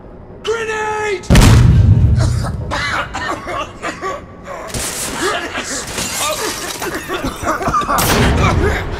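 A grenade detonating in a PS4 action game, a sudden heavy burst that breaks into a loud, rumbling blast, then dies away under scattered game effects and voices.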